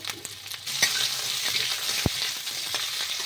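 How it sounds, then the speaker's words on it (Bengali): Potatoes fry for vegetable khichuri in a pan over tempered spices, giving a steady close sizzle with soft stirring scrapes and one sharp knock of the utensil against the pan, with no voices. "আলুটা একটু সামান্য ভেজে নেব।"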